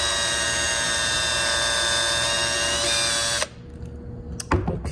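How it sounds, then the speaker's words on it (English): A loud, high-pitched power drill whines steadily drilling holes in battery modules, then cuts off abruptly, followed by a couple of brief clicks. "we're gonna use a drill bit, and we're gonna drill right there"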